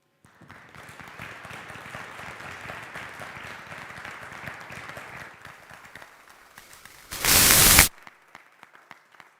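An audience claps steadily at a space studies program opening ceremony as participants walk in carrying their countries' flags. The applause fades after about six seconds, and a short loud burst of static noise follows.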